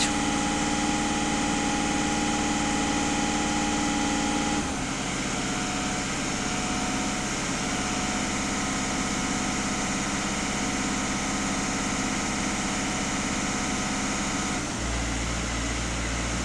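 A VW Passat B7 engine idles steadily, its rpm self-regulating with audible shifts in pitch at a couple of points, a continuous close mechanical hum with no talking.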